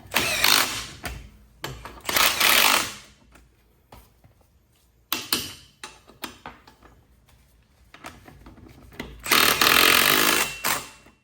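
An impact wrench rattles in several loud, short bursts on rusty bolts during ABS work on a 2005 Chevy Equinox, with quieter mechanical clatter and shop noise between the bursts.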